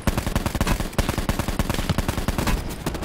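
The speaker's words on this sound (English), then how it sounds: "His butt buddy just shot me out of the window in the house" Rapid automatic gunfire rattles nonstop in Call of Duty: Black Ops 4, a loud, close stream of evenly spaced shots lasting throughout.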